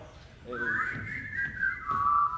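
A clear whistled melody, a single sustained wavering tone that slides between a few pitches, fairly close and alone over faint background.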